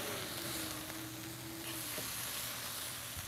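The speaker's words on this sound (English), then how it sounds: "Put our burger patties directly over the heat, and we're just giving these a couple minutes per side." Burger patties searing directly over the heat of a hot grill, a steady close hiss and crackle that holds evenly throughout with a faint tonal hum underneath; no voices.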